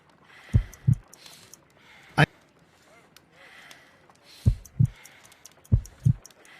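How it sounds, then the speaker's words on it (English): Paired muffled heartbeat thumps from a detective game, a weak slow pulse of low thuds heard in a few double beats, with a sharp click between them over a noisy hiss. "I need to concentrate and count the heartbeats."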